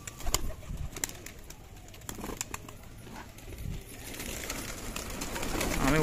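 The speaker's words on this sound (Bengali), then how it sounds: "নর পায়রা বন্ধুরা এটা একটা" A male pigeon coos in a loft with low, soft, throaty calls, close by, alongside faint shuffling and a rising background murmur.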